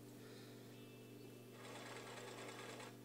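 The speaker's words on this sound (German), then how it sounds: "Müssen wir deswegen erstmal hier durch die Nähmaschine jagen." A household sewing machine runs with a steady, faint mechanical whirr that grows busier and more rattly partway through as stitching speeds up.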